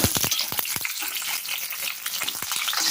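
Long-sliced garlic and onion sizzle in a hot pan for vegetable pasta, a close, bright frying hiss broken by several quick clicks of a spoon stirring, no talking.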